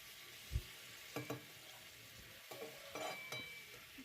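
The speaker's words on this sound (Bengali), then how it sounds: "হালকা করে সব ভেজে নিলাম" Winter vegetables for khichdi fry quietly in a pan with a soft, continuous sizzle, broken by a few light stirring knocks and scrapes of a utensil.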